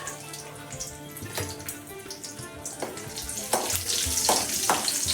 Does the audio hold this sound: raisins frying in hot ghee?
yes